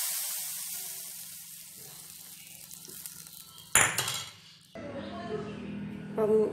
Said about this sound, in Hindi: अब हम इसमें छौंकन लगाएंगे।